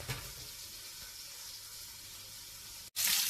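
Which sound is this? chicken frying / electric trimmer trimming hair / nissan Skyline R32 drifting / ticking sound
chicken frying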